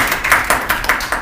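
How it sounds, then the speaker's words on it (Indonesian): Applause for a student named Tobias in a classroom, a handful of separate loud claps in an uneven rhythm, close and with no talking over them. "Tepuk tangan untuk Tobias"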